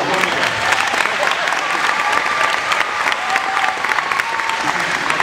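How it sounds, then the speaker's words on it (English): Loud, sustained applause from an audience at a magic and mentalism show, a dense, even roar of many clapping hands with some crowd voices mixed in. "Another round of applause for Nina."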